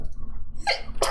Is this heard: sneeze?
yes